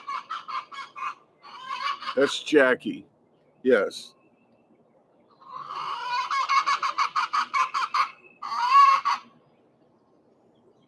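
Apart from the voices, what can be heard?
chickens clucking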